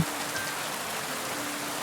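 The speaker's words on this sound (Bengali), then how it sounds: "রাত্রে বৃষ্টি নামে হু হু বাদলা হওয়ার" Steady, even rain falls without pause, used as a sound effect behind a Bengali audiobook story; the hiss stays constant and no voice is heard.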